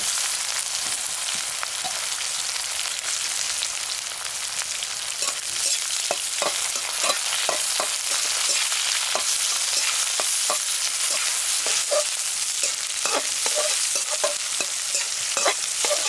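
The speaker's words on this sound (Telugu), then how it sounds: "ఉల్లిపాయలు కొంచెం కలర్ మారే వరకు ఇలా వేయించుకుని" Sliced onions, green chillies and curry leaves fry in hot oil for an aloo fry, giving a constant bright sizzle with repeated close scraping strokes of a spoon stirring the pan and no talk.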